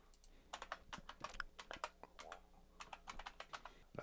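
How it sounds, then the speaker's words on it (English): Quick, irregular clicks of fingers typing a password on a computer keyboard, close but faint, in short bursts with small pauses. "I'm going to put in a password."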